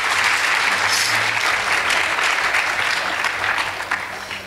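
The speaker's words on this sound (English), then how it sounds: "Please give both teams a round of applause." A debate audience gives both teams on stage a sustained round of applause, a loud, dense wash of clapping that holds steady and tapers slightly toward the end.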